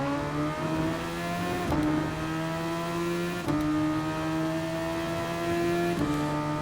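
A Super Formula race car engine in Gran Turismo, a steady high-pitched drone that climbs through the gears with brief dips at each shift, continuous and close.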